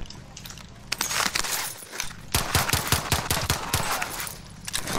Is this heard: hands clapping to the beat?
no